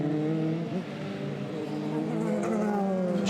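A Euroformula Open single-seater race car at Spa-Francorchamps in qualifying, its engine note sweeping in pitch as it passes and brakes for the chicane, loud and sustained with rising and falling harmonic tones.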